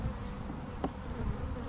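Bees buzz in a dense, continuous drone at a Langstroth-style WSP hive box in Australia, close up and fairly quiet, with a brief louder bump partway through.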